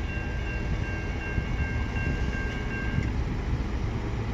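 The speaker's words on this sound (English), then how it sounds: "this could be the last train" Westbound train passing at Emmett, Michigan in January, a steady loud rumble and roar of rolling cars with faint high tonal squeals, continuous and nearby with no voices.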